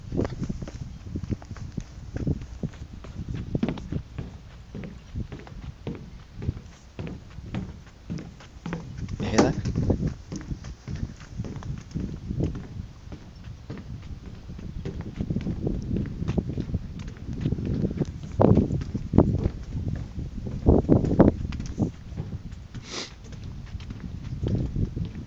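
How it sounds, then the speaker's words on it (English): Footsteps walking across an outdoor area at sunrise, recorded on a Samsung Galaxy S II phone, steady thuds and crunches mixed with wind and ambience, heard under someone talking throughout. "I'll walk across here so you can hear the ambience of the footsteps and things."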